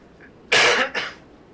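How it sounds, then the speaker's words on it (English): A single person coughs twice in quick succession, a harsh chesty burst then a shorter second one, close and loud against a quiet background, from a man with chest congestion. "Sorry for the coughing. I got a little chest congestion."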